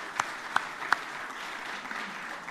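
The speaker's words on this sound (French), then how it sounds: "On va les féliciter et les applaudir à nouveau tous les quatre." Audience applause at the Paris-Nice 2025 press conference: a steady, moderately faint wash of clapping from a room of people, with a few sharper individual claps standing out near the start.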